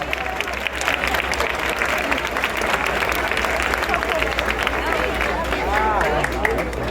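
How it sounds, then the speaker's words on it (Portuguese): Church congregation applauding steadily and loudly throughout, dense clapping with crowd murmur mixed in. "Vamos aplaudir Jesus por esse propósito."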